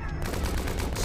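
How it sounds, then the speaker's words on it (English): Gunfire in the video game Depth, a rapid, dense burst of shots in quick succession over about a second, loud and close. "Stop shooting at me!"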